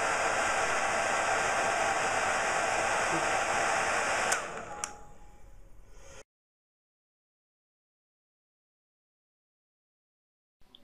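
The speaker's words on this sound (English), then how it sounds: "This electric hairdryer gives off over 100 milligauss when in use." An electric hairdryer runs with a steady, loud broadband whoosh for about four seconds, then winds down and cuts off, leaving near silence with a faint click at the end.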